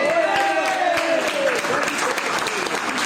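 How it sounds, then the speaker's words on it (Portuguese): Crowd applause at a casual gathering in Brazil: brisk, continuous clapping with a sustained tonal sound, like a voice or music, running over it for a few seconds. "Uma salva de palmas pro segundo."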